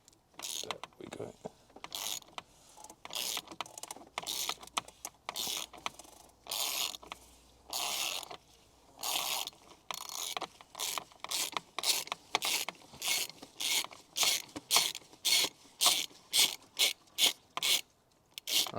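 A ratchet fitted with a 32mm socket clicks rapidly on an Audi A6 C7 oil filter housing, in repeated bursts of sharp, close mechanical ticking separated by short pauses, speeding into a steady rhythm toward the end.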